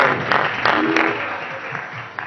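Studio audience applause on a TV morning show, a dense steady patter of clapping filling the room with a few sharper bursts, fairly close and continuous throughout.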